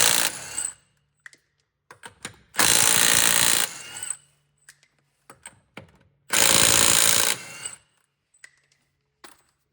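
Milwaukee 3/8-inch impact wrench hammering at 100 foot-pounds in two loud sustained bursts, each roughly two seconds, separated by quieter clicks and small mechanical taps, close up with no talk.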